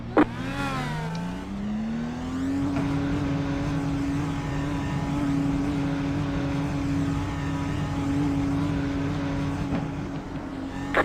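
An IndyCar engine at Indianapolis climbs in pitch as it accelerates on a restart, then holds a loud, steady high drone close by for several seconds, with no talk over it.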